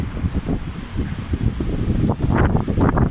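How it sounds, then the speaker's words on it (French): Strong wind buffets the microphone on a beach, producing loud, rumbling low gusts that rise and fall continuously with no talking. "vous allez entendre le bruit horrible du vent"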